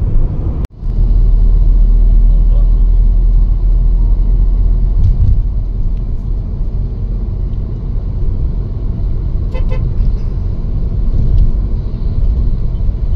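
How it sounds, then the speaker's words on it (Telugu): Road traffic in HITEC City, Hyderabad, a loud continuous rumble of passing cars and engines with a sharp knock near the start, then steady heavy flow and faint horn-like tones. "బాగానే ఉన్నది ట్రాఫిక్."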